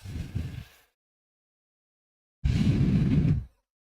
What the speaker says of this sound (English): Mine probably sounds more like a hair dryer than his.